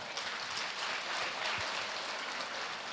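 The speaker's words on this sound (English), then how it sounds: "Could we give them a round of applause?" Audience applause for acoustic musical entertainers at a peace leadership conference plenary in the Philippines, a soft, fairly distant patter of many hands clapping evenly for a few seconds in a large room.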